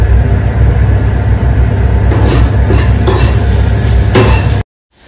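Onion roasting in a pan alongside roasted spices, coconut and garlic: a loud, steady frying hiss with faint stirring scrapes, cutting off abruptly near the end.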